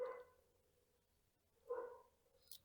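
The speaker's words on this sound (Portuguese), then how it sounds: "O cachorro do vizinho hoje tá que tá." A neighbour's dog barks twice from a distance, one bark at the start and another a little over a second later, both faint against a quiet room.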